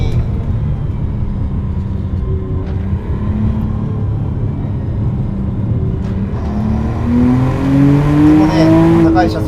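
A 2025 McLaren Artura enters corners at high speed on a winding road, a steady cabin rumble of engine and tires building into a rising, climbing engine tone near the end.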